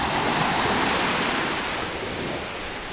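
Steady roar of sea waves washing onto the shore at sunset in Alanya, Turkey, a broad continuous rush with a little wind, no voices.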